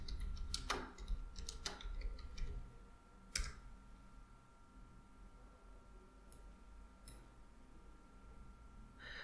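Keys clack on a computer keyboard as a command is typed into a terminal, a few sparse, crisp clicks at a quiet level, scattered across a near-silent room with no talking.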